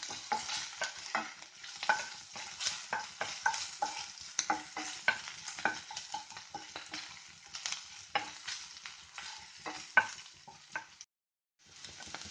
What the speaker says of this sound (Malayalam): ഇനി നമുക്ക് അല്പം പച്ചമണം മാറുന്ന വരെ ഇളക്കി കൊടുക്കാം.